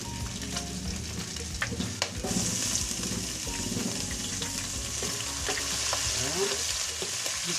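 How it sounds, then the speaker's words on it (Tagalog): Garlic sautés in a pan for a winged bean dish, a continuous close sizzle with occasional spatula scrapes, and the sizzle swells partway through. "At igigisa po natin ang ating bawang."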